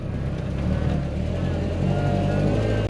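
A 1965 Land Rover Series IIA drives along with a steady, loud engine drone and road rumble heard from inside, continuous throughout.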